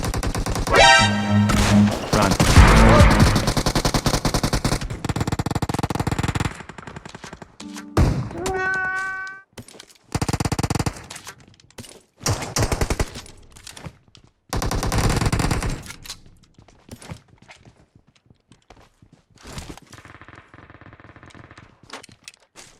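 Gunfire in a multiplayer shooter video game: loud bursts of automatic fire and single shots, dense at first, then scattered volleys with pauses, close and harsh, with faint players' voices at times.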